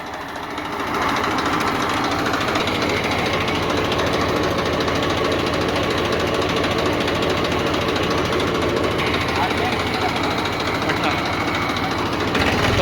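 A TAFE 30 DI tractor runs with a rotavator attached at about 1800 RPM, its diesel engine giving a loud, continuous, rapid knocking rumble close by that stays steady throughout.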